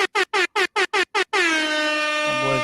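A loud air horn blasts in a rapid series of short honks, then holds one long sustained blare that slowly fades out.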